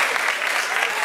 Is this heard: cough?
no